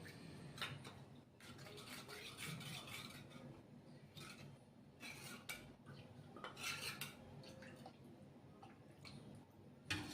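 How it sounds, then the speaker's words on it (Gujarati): A spoon clinks and scrapes against a small bowl as coriander-cumin powder is mixed into buttermilk and the lumps are broken up for Gujarati kadhi. The tapping and scraping are quiet, close and irregular, with no talking. "એમાં થોડીક છાશ અને આપણે ગાંઠા ભાંગી લઈએ"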